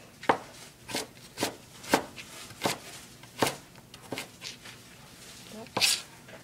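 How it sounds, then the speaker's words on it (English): A knife cuts ginger into thin strands on a board in a series of crisp, evenly spaced chops about every half second, recorded close up in a home kitchen. "And then cutting into tiny little strands."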